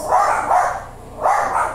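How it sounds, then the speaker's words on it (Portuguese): A neighbour's three dogs barking in two short, agitated bursts of yelps and barks, moderately close and clear, without any talking over them. "Tem 3 cachorros aqui do meu vizinho. Quando passa gente aqui, eles ficam agoniados ali."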